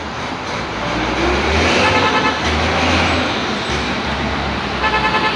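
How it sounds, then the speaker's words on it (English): Early morning road traffic near Three Miles and Marcus Garvey Drive in Jamaica: a steady wash of car, truck and bus engines rolling past close by, with a horn toot and fluctuating engine drones. "Early morning traffic."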